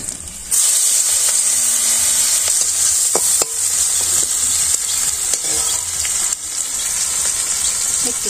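Whole cumin, cardamom, black pepper, bay leaf and dried chili fry in hot oil in a village kitchen, a loud continuous sizzle that flares and dips with scattered crackles throughout.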